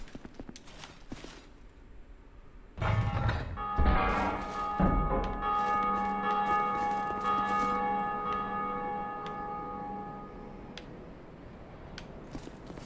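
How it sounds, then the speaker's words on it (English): Several bright metallic bell strikes land in quick succession in the video game Dark Souls 2, then their tones ring on and slowly fade over a low steady background. "Should I be ringing bells?"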